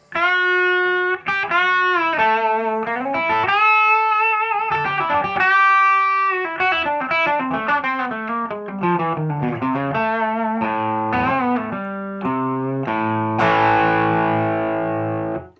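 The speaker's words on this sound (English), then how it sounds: "So now, some mild distortion." Electric guitar, a 2018 Gibson ES-335 on its bridge pickup, with a light overdrive crunch plays a run of sustained chords and single notes, steady and fairly loud, ending on a fuller strummed chord.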